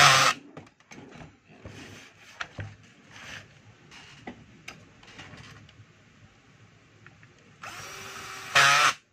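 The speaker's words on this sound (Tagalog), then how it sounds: "Malaking screw naman yung ikakabit natin sa pinakapuno ng handle." A power tool drives a large screw into the handle of a 5 kg DeWalt D25811 jackhammer, with short intermittent whirring bursts among quieter handling sounds and a louder sustained burst near the end.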